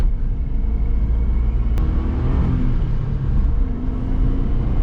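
A high-mileage Suzuki Jimny with about 150,000 km climbs an uphill road, its engine a steady low drone heard from inside the cabin, with a faint whir and no sharp changes.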